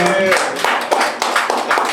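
An audience claps in a brief burst of applause, close and lively, with voices calling out over it.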